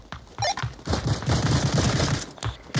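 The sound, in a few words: gunfire in Onward VR video game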